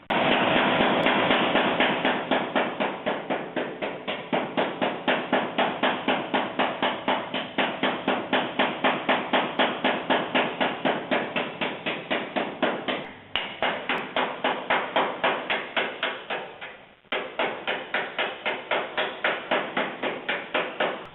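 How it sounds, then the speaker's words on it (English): Rapid continuous hammering on a 1956 Chevrolet Nomad's metal panel over a spoon, fast even blows ringing out close and loud, with two brief pauses. "I'm going to stick a spoon right here and hammer it down"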